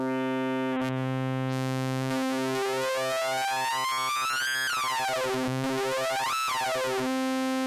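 Synthmaster 3 software synthesizer tone with hard oscillator sync, bright harmonics sweeping up and down in dramatic swoops over a steady low drone, played alone and fairly loud.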